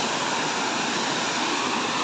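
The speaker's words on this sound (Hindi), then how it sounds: "ये देख पानी केमती फ्लो हो देख" River water flows steadily during a family picnic on a riverbank, a close, loud, continuous broadband rush with no pauses.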